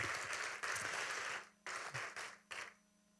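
Applause from an audience in a Korean church-style gathering after a testimony, a dense burst of clapping that fades, then two short bursts trailing off into quiet.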